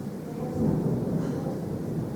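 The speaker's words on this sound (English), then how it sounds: "We're like in the middle of a thunderstorm now." Thunder during a thunderstorm comes through as a low, continuous rumble that swells slightly midway and then holds steady, with no talking over it.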